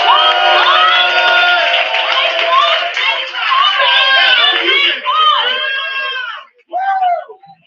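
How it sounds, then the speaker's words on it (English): A lively open mic crowd cheers, whoops and claps loudly for several seconds, with shouted voices and screams over the clapping before it breaks off and a final burst of cheering follows. "Please make some noise and a round of applause for Mike!"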